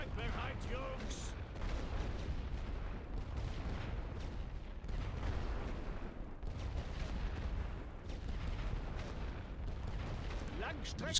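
Continuous rumbling artillery bombardment in the WWI strategy game The Great War: Western Front, a dense low roar of distant overlapping blasts with no voices over it.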